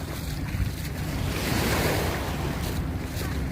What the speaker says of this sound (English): Gentle waves of Lake Michigan.